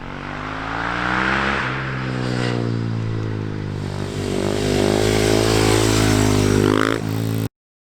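A supermoto motorcycle on a motocross track revs loudly up close, its engine note rising and falling through several surges before cutting off abruptly.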